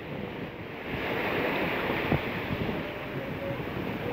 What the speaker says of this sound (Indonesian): Efeknya tuh ya dari ombak rob seperti ini nih.